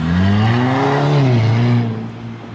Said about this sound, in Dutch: Die klepsysteem klinkt wel goed van onder jou, toch?